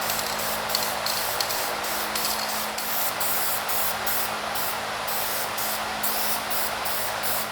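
An aerosol can sprays a light coat of paint onto small block Chevrolet engine parts, a loud, close, continuous hiss broken by brief rhythmic bursts as the nozzle is pressed, with no talking.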